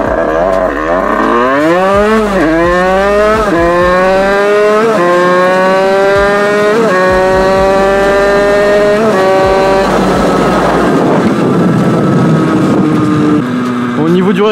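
An 80cc motorbike engine revs hard during a wheelie, loud and close, its whining pitch climbing through several gear-like rises and drops over wind-buffeted microphone noise.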